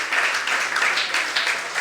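A church congregation claps hard during a Sunday service, a dense burst of applause from many hands, loud and continuous with no talk.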